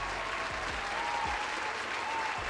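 Steady applause from an audience at a podcast-style studio event, dense even clapping filling the whole stretch without a break, a few low thumps and faint voices mixed in.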